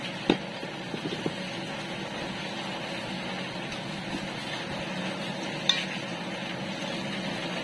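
Homemade embutido mixture of ground meat seasoned with black pepper, salt and MSG being stirred and combined by hand in a bowl, a steady low scraping and squelching texture with a couple of brief knocks, close and fairly quiet.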